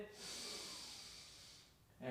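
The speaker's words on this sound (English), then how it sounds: "Deep breath in." A deep inhaled breath during a guided mobility stretching exercise, a long broad airy hiss lasting nearly two seconds, close and steady, then a brief fresh breath sound at the end.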